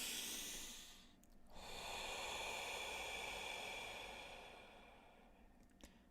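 A long, slow exhale during meditation, a soft airy breath that rises, holds steady for several seconds and fades gently, faint and close against background hiss.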